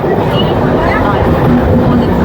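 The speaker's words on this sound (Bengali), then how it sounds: "ট্রেন ঢুকছে, ট্রেন যাচ্ছে" A train rumbles loudly and steadily through the Dum Dum railway station platform in Kolkata, a dense close roar with voices mixed in.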